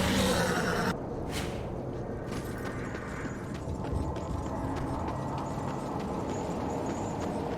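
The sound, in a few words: horse hooves clip-clopping in video game Darksiders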